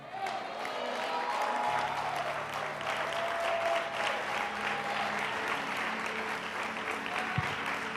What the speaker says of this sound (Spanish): fuerte ese aplauso con celebración y victoria